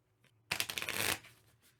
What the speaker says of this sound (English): We shuffle this card back into our deck.